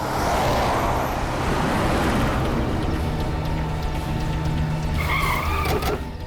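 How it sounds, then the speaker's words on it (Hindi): A car speeds off with tires skidding, a loud, sustained screech and engine roar close by that fades slightly toward the end. "भगाओ गाड़ी"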